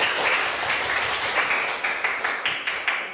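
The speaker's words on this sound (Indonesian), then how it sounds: "tepuk tangan untuk kita semua" Hand clapping from a classroom of students during a science lesson, a dense continuous wash of many hands with a few rhythmic group claps near the end, steady and fairly loud.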